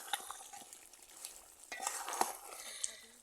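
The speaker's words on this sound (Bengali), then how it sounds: "নামাইয়ে ফেলার আগে আম্মু একটু লাড়াচাড়া দিয়েছে" Chicken skin bhuna being stirred in a pan once its liquid has cooked off, giving soft scraping and stirring strokes over a quiet, steady sizzle, with a few brighter clinks near the end.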